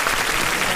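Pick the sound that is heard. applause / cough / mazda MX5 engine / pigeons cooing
applause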